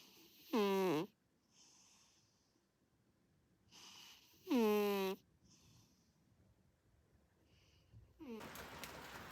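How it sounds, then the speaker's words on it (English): A person snores in a daytime nap, with two loud, rasping snores spaced a few seconds apart, softer breathing between them, and a third rougher snore rising at the end. "How about a little audio of Mitt snoring yesterday afternoon to throw into the mix"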